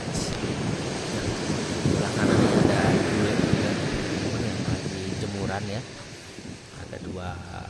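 Surf rolls in at Dreamland beach in Bali, a broad wash of waves mixed with wind buffeting the microphone, while someone talks over it.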